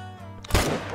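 A rifle shot fired at a caiman in the hunting video game theHunter: Call of the Wild, a single sharp loud blast midway with a lingering rumbling tail over a low steady background hum.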